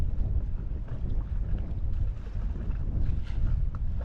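Steady wind buffeting and rushing water while a sailboat heads into the wind near Belize's Blue Hole, a constant broadband roar filling the whole moment with no voices.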